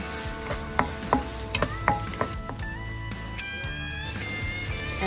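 Onions sautéing in a pan for spaghetti sauce, a steady close sizzle with occasional clinks and scrapes of a utensil stirring, plus a few higher tonal sounds later on.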